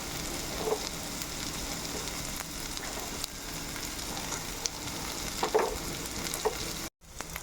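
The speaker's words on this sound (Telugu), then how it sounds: "సో రెండు కలిసి క్యాప్సికమ్ వేగుతుంది, ఆనియన్స్ అనేది బ్రౌన్ అవుతుంది." Capsicum, onion and garlic fry together in a pan with a steady, moderate sizzle and a few faint stirring knocks, ending in a brief cut to silence.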